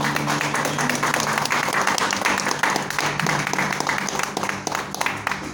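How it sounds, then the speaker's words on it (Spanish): Church congregation clapping together during an afternoon service, a dense, steady wash of many hands that holds at full level for several seconds, with a few scattered voices mixed in. "Dale un aplauso al Señor en esta tarde."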